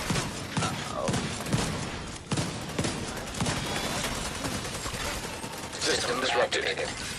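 Rapid gunfire bursts and heavy impacts from The Division 2 combat, dense and continuous with explosive thuds throughout, under urgent shouting voices.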